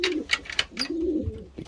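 Close pigeons coo in a breeding loft, a couple of throaty rolling calls broken by short wing or shuffling sounds, fairly loud and without talk.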